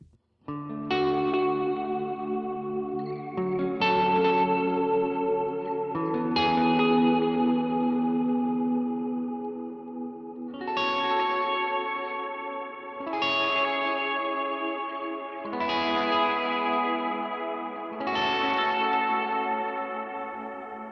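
Clean electric guitar chords ring out one after another, about seven strums, shimmering with chorus and echo effects and sustaining between hits.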